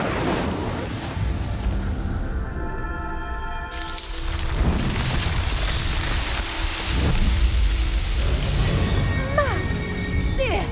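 An Incendio fire spell is cast in Hogwarts Legacy, a loud, roaring whoosh of flame that swells and crackles over game music and ambience, holding steady for several seconds.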